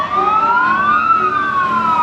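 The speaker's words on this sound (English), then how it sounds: "So if you can hear the siren, that's very rare." A loud emergency siren wails steadily, its pitch rising and falling in long sweeps, close and continuous.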